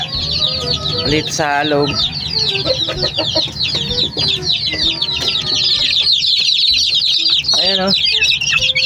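Chicks and hens cluck and peep inside a coop with a broken door, giving a dense, continuous chorus of high chirps and clucks with a couple of louder calls, while someone speaks briefly over it.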